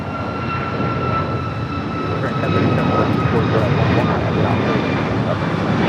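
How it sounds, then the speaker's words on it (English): A United Boeing 737 MAX 8 airliner at Los Angeles LAX makes a steady, loud jet engine roar with faint high whine tones, building slightly louder midway and holding continuously throughout. "This is United 2443 going to Cleveland on a Boeing 737 MAX 8."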